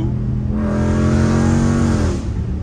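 A car drifting through a turn on a rain-wet road revs up loudly into a sustained, rising engine whine that falls away after about two seconds, close and alone.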